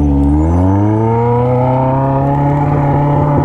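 A new motorcycle with a straight pipe exhaust revs loudly and up close, its raw engine note climbing at first and then holding a steady, buzzing drone.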